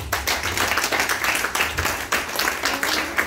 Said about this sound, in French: On donne une acclamation à l'Éternel.